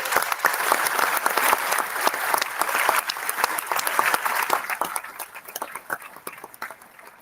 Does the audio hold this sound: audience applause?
yes